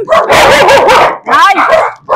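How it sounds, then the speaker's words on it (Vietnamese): A dog barks fiercely and loudly at close range in two long bursts with a brief gap between them. "Nó sủa dữ lắm."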